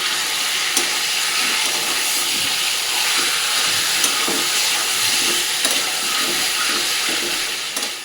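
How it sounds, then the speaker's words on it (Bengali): Mustard-marinated chicken pieces fry in a pan, giving a steady, loud, hissing sizzle that carries on evenly throughout with no talking. "চিকেনগুলো একটু ভালো করে ভেজে নেবো।"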